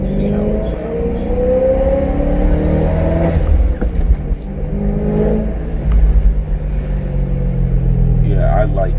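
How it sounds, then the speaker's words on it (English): A supercharged car engine revs and whirs loudly and close up, rising and falling in several pulls, with people talking over it. "Now you can really hear the supercharger."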